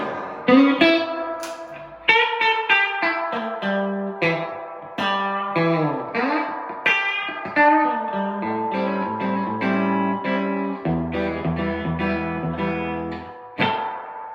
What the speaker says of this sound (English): the emulation of the reverb on there sounds more true to like a real spring than the other did